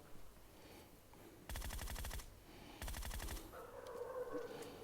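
Automatic gunfire in the mobile shooter PUBG Mobile, two rapid bursts of shots each lasting under a second, fairly close, over low game ambience with a faint tone near the end.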